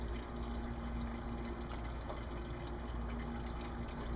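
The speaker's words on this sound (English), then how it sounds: "even though you did drain the radiator, you will get some more coolant" Coolant draining from a Dodge or Jeep 3.7/4.7L engine during a thermostat replacement, a faint continuous trickling rush of liquid with a low steady background hum, no talk.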